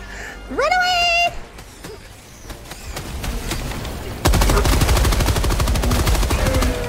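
Bursts of friendly gunfire in the game Helldivers 2, with rapid automatic fire building into a dense, loud machine-gun stream toward the end, mixed with shouting and other game sounds.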